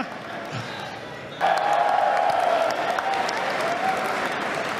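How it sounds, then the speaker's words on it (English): A large audience at the Sony E3 2015 press conference breaks into loud applause and cheering that starts abruptly and holds steady, following a brief quieter stretch with faint voices. "That's a clap line. That's an applause line."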